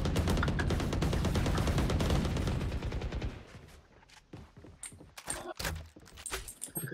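Rapid automatic gunfire in Valorant gameplay rattles loudly for about three seconds, then gives way to scattered single shots and sharp impacts at lower volume.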